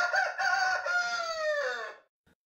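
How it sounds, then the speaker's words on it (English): A rooster crows a single long cock-a-doodle-doo, loud and clear nearby, ending in a drawn-out falling note before a brief silence. "let the sound of cock crowing save me from following Peter"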